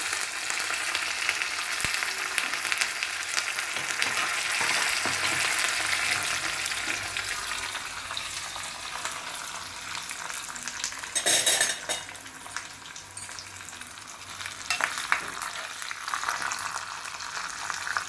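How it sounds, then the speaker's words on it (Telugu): Curry leaves crackle and sizzle in a hot pan with the stove switched off, a steady broadband fry under metal scraping and stirring, with a louder burst of spattering near the middle and occasional utensil clinks; no voices. "చివరిగా స్టవ్ ఆఫ్ చేసి కరివేపాకు వేస్తాను"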